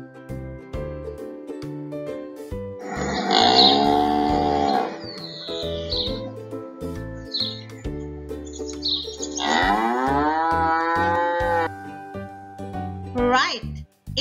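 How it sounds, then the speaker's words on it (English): Cow mooing in a grade 2 English lesson on farm animals, two long drawn-out moos a few seconds apart, loud and close, with brief bird chirps between and a short chirp at the end. "It's a cow."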